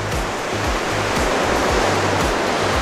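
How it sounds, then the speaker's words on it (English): Ocean waves churn far below a cruise ship balcony on deck 12 of Quantum of the Seas in the Western Pacific off Japan, a loud, unbroken hiss and rush of water with low pulsing rumble underneath and no voices. "And here we are, the Western Pacific Ocean, just off the coast of Japan."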